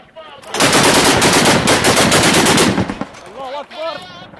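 Rebel fighters firing a machine gun at a jet fighter overhead, a loud sustained burst of rapid automatic gunfire lasting a few seconds, followed by shouting voices.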